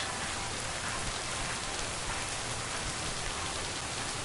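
Steady rain pours down inside a video game, a dense, even hiss of falling drops that holds at one level throughout, with no other sounds or voices.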